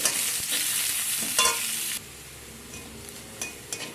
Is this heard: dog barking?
no